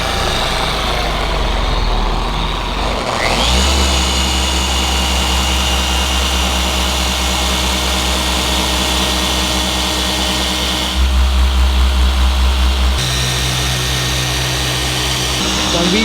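Electric polisher buffing compound on a Subaru STi during paint correction, a loud steady motor drone that shifts pitch as pressure and speed change.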